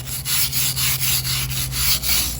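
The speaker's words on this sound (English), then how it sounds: "And get a wire brush" A wire brush scrubs back and forth over rusted areas of stucco, making rhythmic rasping strokes at about four per second, loud and close.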